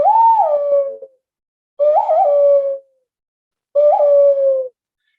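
A hand whistle made by blowing into cupped hands, imitating a mourning dove's coo: three separate hollow, breathy tones, each about a second long with a slight wavering rise, spaced by short silences and heard alone, close up.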